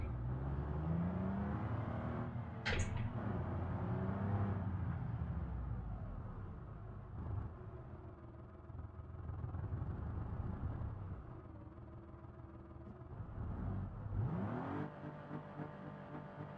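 A little V6 car with ABS in BeamNG revs and whirs through a failed burnout attempt, engine rising and falling in rumbling swells over several seconds, with a couple of sharper squeals, moderately close.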